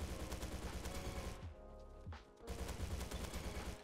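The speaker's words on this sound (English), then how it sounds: "Teammates are currently shooting at me." Rapid automatic gunfire from the Roblox shooter Bad Business, dense bursts that stop briefly mid-clip and then resume, loud and close, with no voices.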